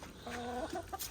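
Backyard chickens cluck nearby in a short run of soft, tonal calls over steady outdoor background noise, with no talking.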